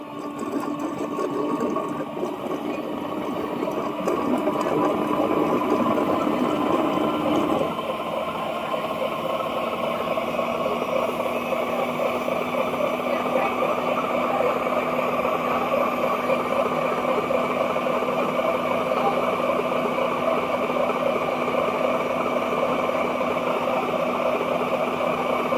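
An Ecovacs robot vacuum cleaner washing its mop at its base station gives off a steady mechanical whir and hum that shifts pitch early on, then continues as an even, loud drone with no talk.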